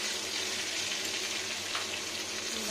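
Drumstick stems (sajne data) fry in a pan with salt, giving a steady, close, continuous sizzle that carries on unbroken with no talking.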